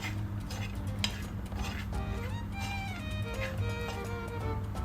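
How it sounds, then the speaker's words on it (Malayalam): Sambar powder sautéing in a pan for a Kerala-style Onam sambar, with a soft continuous sizzle and light stirring scrapes, close and moderately loud, accompanied by a faint background tone. "സാമ്പാർ പൊടിയുടെ ഒരു പച്ചമണം പോണ വരെയും ഒന്ന് വഴറ്റിയെടുക്കാം"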